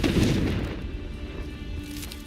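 A Confringo spell explodes in Hogwarts Legacy with a single heavy, rumbling boom at the start that fades into a low, lingering roar, loud and close.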